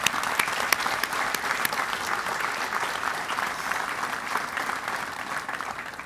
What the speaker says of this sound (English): Quick round of applause for the Teakells.